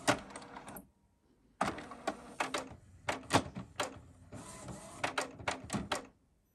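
Canon MG4250 multifunction printer initializing after power-on, with bursts of mechanical whirring, clicks and clatter separated by brief pauses, close and clear with no talk.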